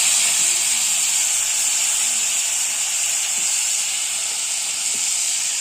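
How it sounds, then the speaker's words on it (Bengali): Poppy seed and mustard paste goes into a hot pan with fried katla fish, producing a loud, steady hiss that holds evenly and alone throughout. "এখন পোস্ত আর সরষে বাটাটা দিয়ে দেবো"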